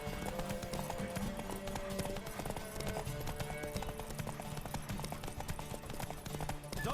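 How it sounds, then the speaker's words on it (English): Horse hooves gallop in The Witcher 3: Wild Hunt, a fast continuous clip-clop of hoofbeats over a game music bed, steady and close throughout. "Don't spare the horse!"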